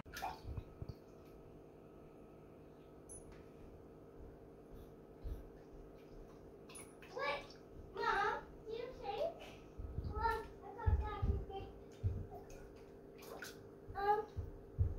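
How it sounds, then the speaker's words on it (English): A dog splashes about in water indoors, intermittent sloshing bursts that grow busier toward the end, while a person speaks quietly underneath. "I hear splash, splash, splash"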